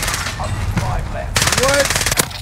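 Gunfire in the Caldera video game, a short loud burst of rapid automatic shots following a stretch of quieter sounds, with a voice briefly audible.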